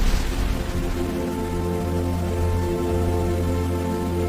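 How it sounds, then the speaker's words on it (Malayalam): Steady loud rush of rain and wind in a cartoon storm scene, a dense continuous wash with a low rumbling drone underneath, holding level throughout with no voices. "ഒരു ദിവസം വലിയ കാറ്റും മഴയും വന്നു."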